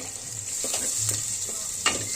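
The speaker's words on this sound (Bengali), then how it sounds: "পেঁয়াজটা নাড়তে নাড়তে যখন হালকা লাল কালারের মধ্যে, বাদামি কালারের মধ্যে চলে আসবে" Onions frying in a pan before lentils go in, a steady close sizzle with a few soft scraping stirs, no one speaking.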